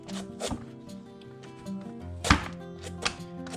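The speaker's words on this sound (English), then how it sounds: "I've learned it's easier to keep it in a half and just peel it that way instead of the little slices" A knife peels and cuts through a raw pumpkin half, making a few sharp chopping thunks and scraping strokes over a steady tonal background.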